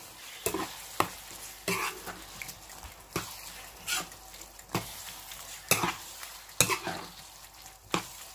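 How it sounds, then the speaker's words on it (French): A sauce with minced garlic fries in a pan while a spoon stirs it in regular scraping strokes, roughly once a second, over a steady soft sizzle. "ma sauce a bien rissolé pendant une dizaine de minutes"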